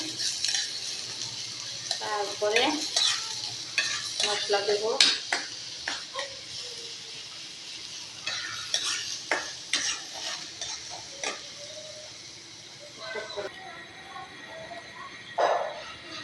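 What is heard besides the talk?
frying garlic in hot oil, stirring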